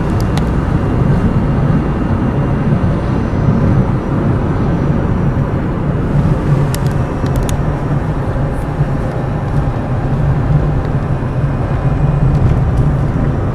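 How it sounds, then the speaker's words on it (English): Inside a quiet Ampmobiles electric car cruising at 55 mph, a steady low road and wind rumble fills the cabin evenly throughout, with faint ticks and no voices. "This is the way an electric vehicle should sound."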